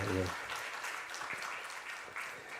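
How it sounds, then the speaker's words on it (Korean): A church congregation applauds its choir, a steady wash of clapping with a few voices and a brief tone at the start, moderately loud and close. "박수 한번 부탁드리겠습니다"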